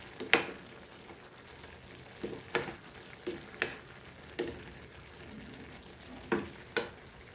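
A spatula scrapes through Goan potato bhaji with kasuri methi frying in a pan, making about ten sharp, uneven stirring strokes over a faint low sizzle.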